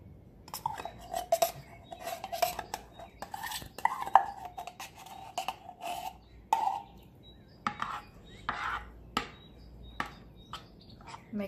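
Spoon stirring powdered milk and condensed milk in a pan for habshi halwa, irregular scraping and clinking of metal against the pan, close and fairly quiet, with faint bird chirps in the background.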